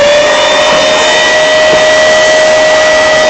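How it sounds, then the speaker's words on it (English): Hoover vacuum cleaner hooked to a Worx WX820 Sandeck sander starts up and runs with a loud, steady high-pitched whine and airy suction roar, close and alone. "And then, when you turn the Hoover on"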